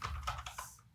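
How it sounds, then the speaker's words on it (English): Brief burst of about four quick clicks from keystrokes on a computer keyboard, close and fairly soft, with no talking. "This is, of course, a lot of typing, you might say."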